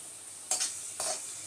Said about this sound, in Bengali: আলুটা কষা হচ্ছে।